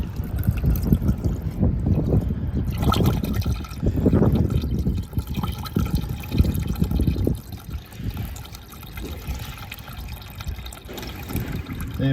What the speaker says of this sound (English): I shall now fill it up with some more coolant